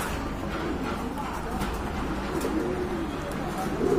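Pigeons coo softly and continuously in the background under ongoing room noise, low and fairly steady throughout.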